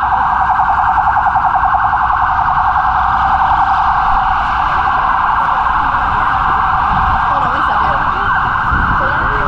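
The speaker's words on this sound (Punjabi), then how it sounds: "ਜਦੋਂ ਵੀ ਕੋਈ ਐਂਬੂਲੈਂਸ ਆਉਣੀ ਹੈ ਸਾਰੀਆਂ ਗੱਡੀਆਂ ਸਟਿਲ ਹੋ ਜਾਣੀਆਂ" An ambulance siren wails loudly and continuously through downtown Toronto traffic at night near Nathan Phillips Square, a steady close tone over faint street noise throughout.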